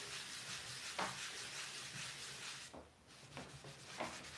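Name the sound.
cloth buffing grey wax on a faux wood nightstand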